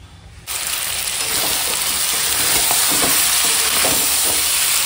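Mutton frying in a hot wok (kadai) for a curry, with a steady loud sizzle that starts abruptly and carries on under scraping stirring strokes throughout.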